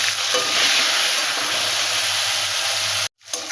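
Steady, loud sizzling of shrimp frying in a hot pan, a dense crackling hiss that cuts out abruptly near the end before briefly resuming.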